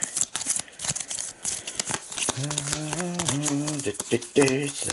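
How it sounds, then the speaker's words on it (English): Rapid riffling and flicking of playing cards being shuffled during an Arkham Horror board game setup, close by, with people talking and a voice rising over the second half. "3 card shuffle."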